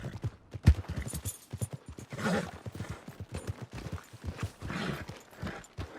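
Horse hooves clip-clop at a steady trot in the video game Red Dead Redemption, a close, rhythmic run of sharp, repeated impacts with no talk over them.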